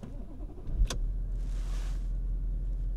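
A remapped car engine cranks and fires with a short sharp burst, then settles into a steady low idle rumble, close up and alone.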